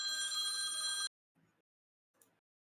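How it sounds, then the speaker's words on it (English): A phone rings with an incoming call during a Star Wars tabletop role-playing session: one bright, steady electronic ring lasting about a second, then cut off, followed by quiet with a couple of faint soft bumps. "someone's getting a phone call"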